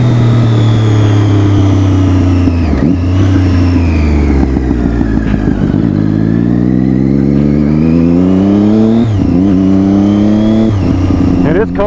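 A loud motorcycle engine drones steadily throughout while riding on a cold morning, rising and falling in pitch as it revs, with a throaty loud exhaust note close by.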